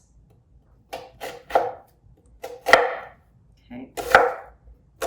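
A knife chops vegetables on a cutting board while sweet and sour pork is being prepared, about six sharp, distinct thuds spaced irregularly in a quiet kitchen, with one brief spoken word.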